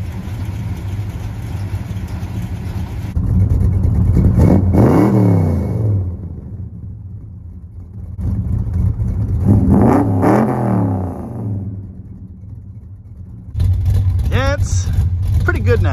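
A 1976 Dodge Dart Swinger's 340 V8 idles with a rough burble, then revs hard twice, each time climbing and falling away, close and loud.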